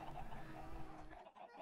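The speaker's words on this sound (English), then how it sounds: "there's like a billion chickens in this one block" Chickens in the Minecraft video game cluck in a soft, faint jumble for a moment before cutting off abruptly.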